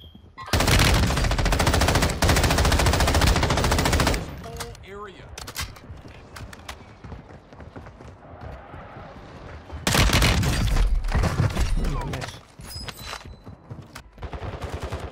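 MP5 submachine gun fire in a multiplayer shooter video game, heard as two loud sustained bursts of rapid automatic gunfire separated by a quieter stretch with faint game noise.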